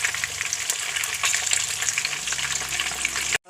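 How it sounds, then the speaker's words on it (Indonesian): Hot oil sizzles and crackles loudly and steadily as plata fish fries in a wok, cutting off abruptly at the end. "Baru masukkan ikan ke dalam kuali untuk digoreng."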